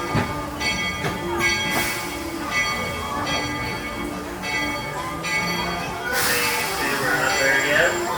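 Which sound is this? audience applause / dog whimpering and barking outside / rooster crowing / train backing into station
train backing into station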